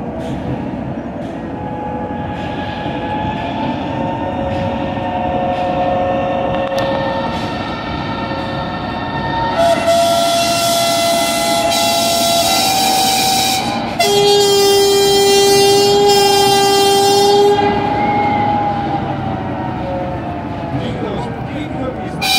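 A diesel locomotive with a two-stroke diesel engine, built under American license, rumbles loudly and steadily nearby, with its horn sounding partway through and people talking over the engine noise.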